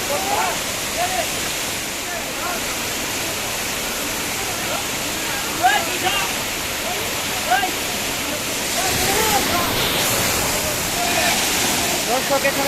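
Waterfall at Jaflong in Sylhet pouring down from high on the hillside, a loud continuous rushing roar of water, with people's voices and shouts mixed faintly into the steady wash.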